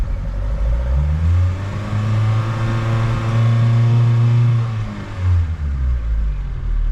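A troubled boat engine revs up in neutral and holds a steady high drone for a few seconds, then drops back toward idle, loud and close with no talking.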